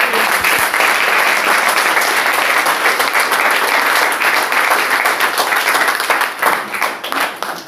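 A congregation at a church service breaks into sustained, loud applause with clearly audible individual claps, the clapping staying dense before thinning and fading toward the end.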